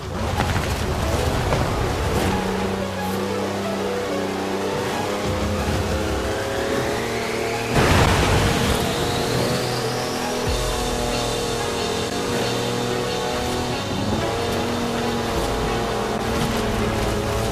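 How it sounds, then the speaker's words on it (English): A four-wheel-drive car on mud tyres in Forza Horizon 4 drifts sideways, its engine droning loudly and steadily with rising revs and a sharp surge partway through. "That's a 4-wheel drive car on mud tyres completely sideways."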